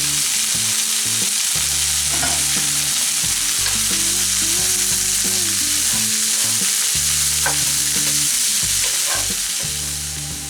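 Vegetables for egg fried rice sizzle and crackle loudly in a hot pan, with steady frying hiss broken by the repeated scrape and clatter of stirring, and no voices.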